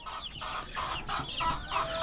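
A batch of farm chickens clucks in quick, repeated bursts, several birds overlapping at close range with a busy, continuous cadence and no voices.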